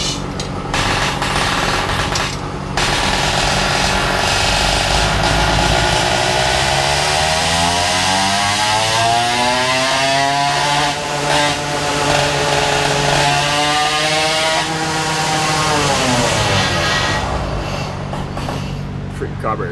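A ported 4.75 HP Zeda80 small engine runs loudly and close, its rasping note climbing and falling through a long rev sweep before settling, with a brief sputter at the start.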